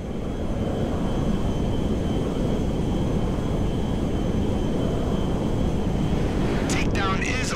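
Aircraft engine from Grand Theft Auto V during a landing approach at McKenzie Field: a steady, loud broadband roar with a low rumble that holds throughout, and a brief higher whine near the end.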